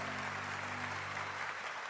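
Church congregation at an online Sunday service of GKII Cangkiran cheering and applauding, a dense, steady wash of clapping and crowd noise with a low sustained tone under it.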